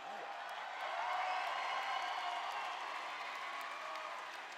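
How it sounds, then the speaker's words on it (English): Arena crowd at a women's world championship MMA event in Singapore cheers loudly as the title belt is raised, a steady, dense roar of voices and applause filling the whole stretch. "You can now hear the crowd's appreciation as the belt is lifted aloft."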